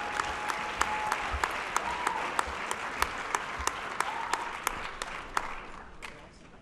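A science fair awards audience applauds prize-winning high school students with a sustained wash of clapping, a few crisp claps close by standing out, tapering slightly toward the end.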